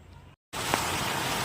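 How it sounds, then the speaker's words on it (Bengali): Rain falls outside in a steady, dense hiss that starts abruptly after a brief silence and holds at an even level. "বৃষ্টি হচ্ছে বাইরে, ভালোই বৃষ্টি হচ্ছে।"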